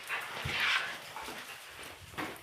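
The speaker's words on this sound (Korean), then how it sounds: "저희 집 강아지." A pet dog whimpering indoors, soft short whines and faint yelps in a quick irregular series, fairly close but not loud.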